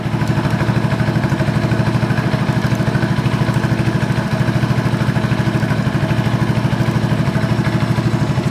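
A Honda TRX 125 ATV engine idles steadily and loudly up close, its fast, even low putter holding without pause and with no voices.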